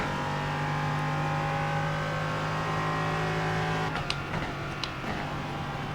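An LMP3 prototype race car engine in the iRacing simulator drones steadily at high revs with a strong tonal hum, then shifts and fluctuates near the end with brief tire or gear noises.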